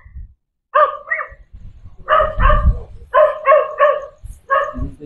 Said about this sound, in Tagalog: Yung aso, di na tumigil.